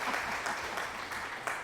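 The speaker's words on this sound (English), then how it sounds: "clapping." Steady light clapping from a small group, a continuous patter of hand claps at moderate distance, with no talking over it.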